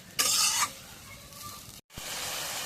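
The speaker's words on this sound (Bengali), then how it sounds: "এখন একটু নাড়া দিই মশলাটা একটু কষাই" Masala spiced with ground cumin and garlic paste is stirred and fried in a pan, a bright scraping sizzle that swells briefly and then settles into a steadier, quieter frying hiss.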